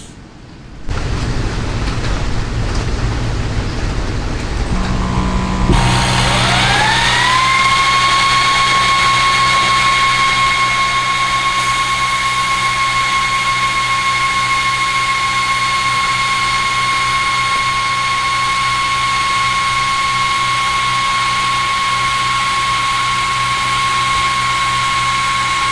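A Creality Falcon2 Pro 60W laser cutter works on half-inch hardwood, its fan-driven whine rising steadily after a few seconds into a loud, constant airy drone with a sustained high tone.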